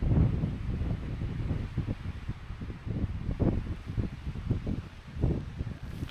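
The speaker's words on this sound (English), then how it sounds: "It's such a soothing sound of the wind blowing through leaves." Gusty wind rushing through leaves on a hillside hike near Alport Castles on a windy day, swelling and fading in repeated soft surges with some buffeting on the microphone and no one talking.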